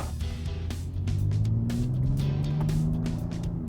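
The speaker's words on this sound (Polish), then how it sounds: "fajny jest dźwięk tego auta i to, jak ono przyspiesza" A BMW X3 M Competition's 510-horsepower engine drones and rises in pitch as it accelerates, a steady close-up rumble with no talking.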